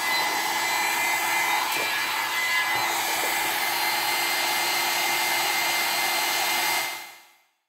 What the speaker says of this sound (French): J'ai fini de passer mon sèche-cheveux sur ma bougie